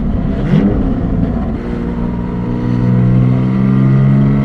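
A Porsche 718 GTS 4.0 engine revs and pulls hard, its throaty low roar climbing steadily in pitch and loudness, close by with no voices.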